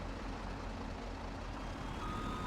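A snowplow truck stuck in snow on a prairie farm in Farming Simulator tries to move, its engine droning low with a steady run of rapid reversing beeps, fairly quiet and without voices.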